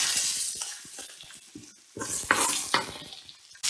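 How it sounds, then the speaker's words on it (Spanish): Butter with thyme, rosemary and three sliced garlic cloves sizzling in a frying pan beside a thick beef chop, a steady close crackle with some clinks and scrapes of a utensil. "Vamos a echar la mantequilla en un lado, el tomillo y el romero y 3 ajos en láminas."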